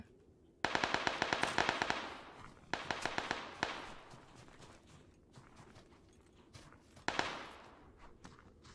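Automatic gunfire in the PUBG battle royale game, heard as three rapid bursts of sharp shots: a long volley, a shorter one, then a brief final burst after a quieter stretch.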